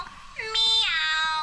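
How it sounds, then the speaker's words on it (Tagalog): A single cat meows close by, a rising, drawn-out cry over a quiet background. "Meow."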